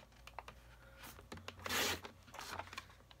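Card stock being cut with a paper trimmer for a handmade card, a close scraping, rasping slide with a brief louder swish in the middle, no talk.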